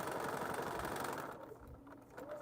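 A sewing machine stitches around a quilt block in a short, steady, close-up run of stitches. The sound eases slightly toward the end.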